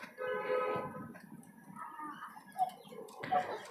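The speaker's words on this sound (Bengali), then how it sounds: "দেশি মুরগির খামার।" Native chickens in a rooftop poultry room, soft clucks and a few short tonal calls at close range, intermittent against a quiet background.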